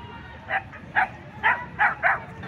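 Pitbulls bark at a dog zone in La Carolina park, Quito, Ecuador: five sharp barks arrive about half a second apart over a steady outdoor background murmur, fairly close.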